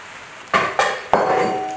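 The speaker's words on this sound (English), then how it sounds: "Now I'll add in the potato, aloo, and the eggplant, baigan." Potato and eggplant pieces go into a large cooking pot for Trinidadian curry, landing in three distinct clattering thumps with a bright ringing tail from the pot, close and fairly loud, no talking.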